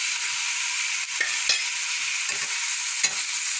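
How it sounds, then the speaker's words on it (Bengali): Frying food being stirred in a pan over a low flame while preparing drumstick (sajne data) stalks, with a steady high sizzle and a few soft scrapes of the spoon against the pan. "হালকা নাড়াচাড়া আমি কম ফ্লেমে দিয়েছি।"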